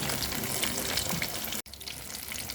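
Banana fritters in a thick batter frying in hot oil, a loud, dense bubbling sizzle that drops out for an instant and then carries on a little quieter, with no speech.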